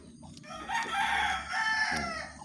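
Rooster crowing nearby on a rainy morning, a single loud drawn-out cock-a-doodle-doo in two strong swells, with faint background noise underneath.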